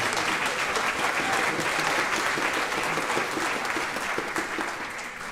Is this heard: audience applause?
yes